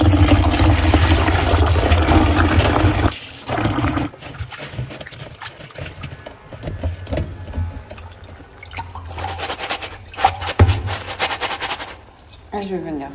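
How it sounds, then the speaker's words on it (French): Clean water rinses a mix of split fava beans and split peas in a colander, starting with a dense rush of running water, then breaking into uneven splashing, rattling and draining bursts close by. "je tiens ce mélange que je vais d'abord bien rincer à l'eau claire"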